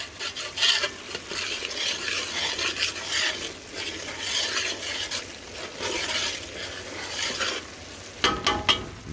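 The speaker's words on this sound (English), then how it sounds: "Scraping the sides, scraping the bottom." A utensil scrapes repeatedly around the sides and bottom of a pot of smothered turkey-neck gravy, in rhythmic rasping strokes over a soft sizzle, close up, with a few sharper knocks near the end.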